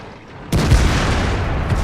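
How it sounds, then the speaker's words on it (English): An artillery shell explodes in the World of Tanks video game: a sudden, loud boom after a moment of quiet, followed by a dense, rumbling tail of blast noise. "Those artillery shells you can hear dropping are me desperately trying to hit this SU-152 to take him out of this fight"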